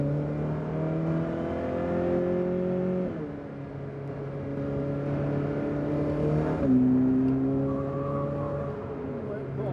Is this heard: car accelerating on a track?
yes